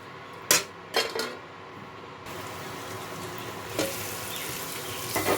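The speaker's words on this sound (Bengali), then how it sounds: "এবার এর মধ্যে আমি এই টমেটো কাঁচা লঙ্কা বাটাটাও দিয়ে দেবো। ভালো মতো কষিয়ে নেব এটা।" A tomato and green chili paste sizzles as it is sautéed in a pan, a close, steady frying hiss that swells midway. A few sharp clinks of a spoon against the pan come at the start and near the end, with no talking.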